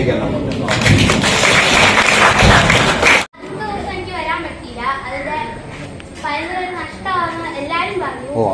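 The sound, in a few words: audience applause for a child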